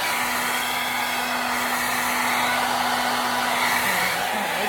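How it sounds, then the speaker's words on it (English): Hair dryer running on its cool setting to set hair extensions, a steady, close, continuous whoosh with a constant motor hum across the whole stretch, no voices. "I just want to make sure I use my blow dryer on cool around"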